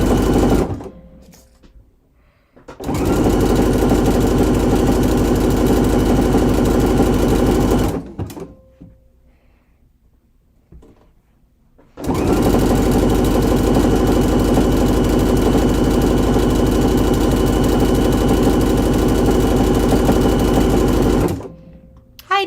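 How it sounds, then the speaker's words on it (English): A sewing machine stitching side seams on a garment: two loud, sustained bursts of rapid mechanical whirring, each several seconds long, separated by a quiet pause. "it's just basically sewing side seams and adding more cuffs and ribbing"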